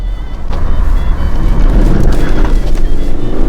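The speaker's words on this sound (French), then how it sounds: "j'ai mis les gaz dans le virage pour vous montrer l'efficacité de l'ESP" A BMW 430d M Sport diesel accelerating hard through a corner in sport mode with stability control on, a loud, close, continuous engine roar with road rumble and wind noise.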